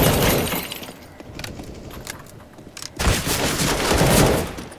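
Video game gunfire from CS:GO, a competitive match against players with SMGs: rapid bursts of automatic shots crack out in quick clusters, pausing briefly before a louder, denser volley near the end, with no talk.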